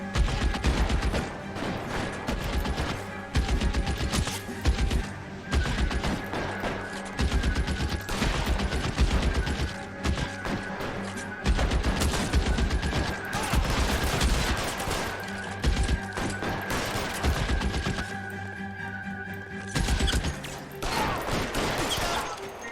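Dense, rapid military rifle gunfire in L.A. Noire, with a Browning Automatic Rifle firing sustained loud bursts and volleys for about twenty seconds, briefly pausing near the end before resuming.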